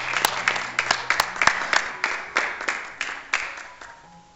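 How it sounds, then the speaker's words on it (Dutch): Guests at a wedding in the Netherlands clap for the bride, a brisk patter of hands with individual claps clearly audible and a few sharper accents, moderately close and fading toward the end. "mag ik een hard applaus voor de bruid?"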